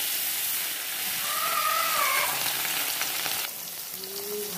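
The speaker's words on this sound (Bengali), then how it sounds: "তেলটা গরম হয়ে গেছে, আমি একে একে করে মাছ দিয়ে দিচ্ছি।" Fish pieces rubbed with salt and turmeric sizzle loudly in hot oil in a home kitchen, a dense continuous crackling fry with a brief whistle-like tone in the middle and a slight shift as more fish is added.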